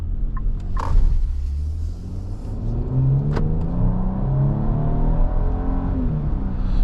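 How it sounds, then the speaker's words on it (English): A 2026 Nissan Armada NISMO SUV with a twin-turbo V6 accelerating hard in sport mode, heard from inside as a steady rising engine drone climbing through gears with a brief click near the start. "Pop it into sport mode for just a second here to get a little taste of our twin turbo V6."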